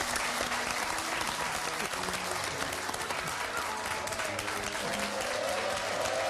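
A French game-show studio audience applauds steadily and fairly loudly, a dense wash of clapping held for several seconds while a voice briefly carries over it.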